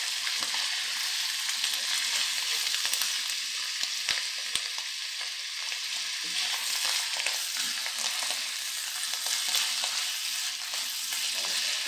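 Colorful vegetables and peppers stir-fry in a hot pan for noodles, a continuous bright sizzle with scraping and tossing running throughout, close and loud with no voices.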